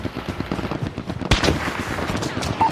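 Gunfire from a shooter video game crackles in quick, close shots layered over busy game sound, with one sharper, louder crack partway through.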